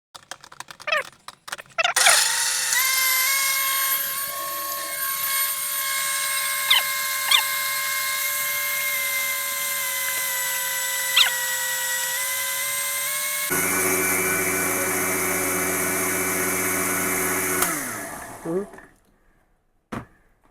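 An electric blender whips a whey protein smoothie, a loud, steady motor whir that runs about sixteen seconds, drops to a lower, rougher drone partway through, then winds down and stops.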